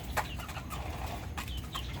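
A gamefowl rooster at the World Gamefowl Expo 2025 gives a few short, close clucks against quiet background crowd murmur.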